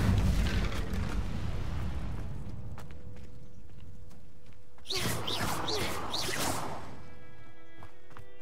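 An Incendio fire spell cast in Hogwarts Legacy: a loud roaring burst that fades into a rumbling whoosh, then a later flurry of brighter magical flares and crackles over quiet ambience.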